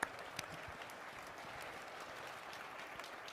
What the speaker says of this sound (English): I want to ask for a round of applause for the wonderful panelists that we've got